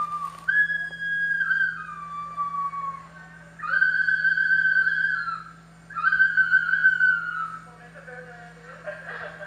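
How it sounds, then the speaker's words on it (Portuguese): A clear, loud whistle sounds in several sustained tones with short gaps between them, over a faint low steady hum. "Vamos ouvir então o barulho do apito."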